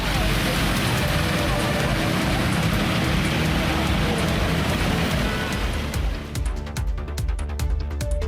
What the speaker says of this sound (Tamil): சென்னையை அடுத்த ஆவடியில் விட்டுவிட்டு மிதமான மழை நீடித்தது